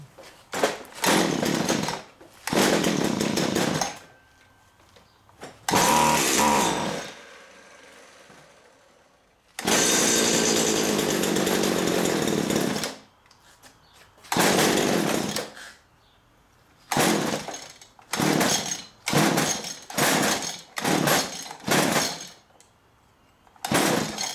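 Repeated attempts to start a STIHL weed trimmer with a fuel problem after refitting the spark plug: loud bursts of engine sputter and pull-cord rasping alternate with silence, the engine firing briefly several times without staying running.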